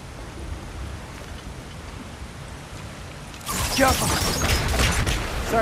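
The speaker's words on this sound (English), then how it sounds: "Sounds like you got the water moving along," Water starts flowing after a blocked channel is cleared in the God of War Ragnarok mines, a low ambient hum giving way midway to a louder, steady rushing splash that continues to the end.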